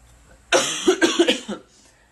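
A short burst of coughing, several quick hacking coughs in a row, close and fairly loud, then quiet.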